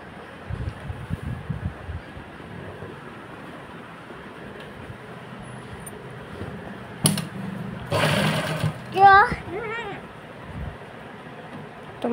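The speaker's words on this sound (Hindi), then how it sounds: "मैं अब करती हूँ दूसरे मोड़े की भी सिलाई" An electric sewing machine stitches the folded edge of an old cotton t-shirt, with short bursts of mechanical whirring and rattling over a low background hum, plus some handling noise.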